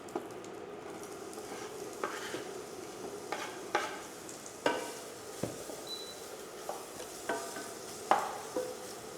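Onions stir-fry quietly in a pan for a Panang curry goulash, a soft low sizzle under repeated light scrapes and taps of a utensil, fairly close and steady.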